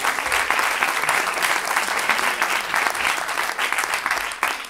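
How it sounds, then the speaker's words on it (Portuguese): Steady, dense clapping from a comedy roast audience fills the whole stretch, loud and continuous without a break. "Uma salva de palmas"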